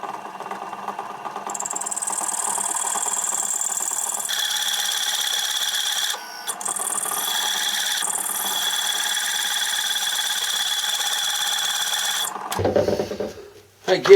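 Craftsman circle cutter cutting, a steady grinding whine with shifting tones that runs close and continuous for about twelve seconds, dips briefly once, then breaks off into clatter.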